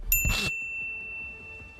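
A single bright notification bell ding strikes sharply, then rings on as a clear fading tone over a quiet room.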